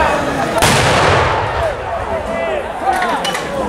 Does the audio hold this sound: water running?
no